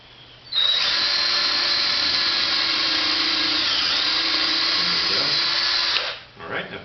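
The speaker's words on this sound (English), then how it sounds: "get this pilot hole drilled and go ahead and put a screw in the roof of this one" A power drill whines steadily at close range for about five seconds drilling a pilot hole in a wooden birdhouse roof, then spins down, with faint handling noises afterward.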